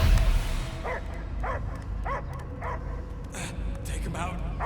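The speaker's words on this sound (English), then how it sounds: "I hear only barking" A dog barks in Marvel's Guardians of the Galaxy video game, a series of evenly spaced short barks and yips over a steady low rumble of background noise, with no talk over them.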